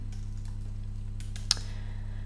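A few quiet clicks of computer keyboard keys as a web address is typed, soft and sparse over a steady low hum.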